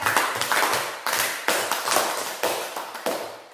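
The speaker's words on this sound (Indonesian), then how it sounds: "Mari kita berikan tepuk tangan untuk kalian." A small group of students claps in unison, a series of about eight rhythmic bursts, loud and close, each clap ringing briefly in the room.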